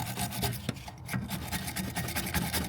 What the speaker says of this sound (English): So first job I'm going to do is clean the threads up a little bit to make it easier to get the nut off